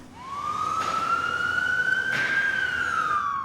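An ambulance siren sounds as a single long wail that rises, holds steady and slowly sweeps, fairly clear and moderately loud with no talking.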